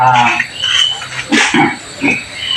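A farmed pig gives a few short, loud grunting squeals in bursts, close by, mixed with other barnyard noises.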